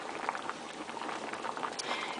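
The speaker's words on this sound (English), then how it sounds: "the pot is going to be boiling" Water bubbles at a steady rolling boil in a pot for potato soup, a soft continuous burble with small popping bursts, close by and fairly quiet.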